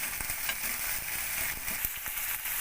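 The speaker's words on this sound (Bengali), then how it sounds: "সেই ভাজা তেলে আমি ওই বাটা মেথি শাক, টমেটো, কাঁচা লঙ্কাটা আমি দিয়ে দিলাম।" Ground fenugreek greens, tomato and green chili frying in hot oil make a steady, close sizzle with soft crackles throughout.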